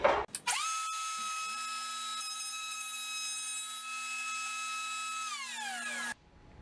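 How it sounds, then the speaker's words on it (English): A router table with a shimmed fence, set up to work as a jointer, whines steadily at high pitch for about five seconds while jointing hardwood boards for a clipboard, then winds down and stops abruptly. "I've set up a shim on this fence of my router table to make it work like a jointer"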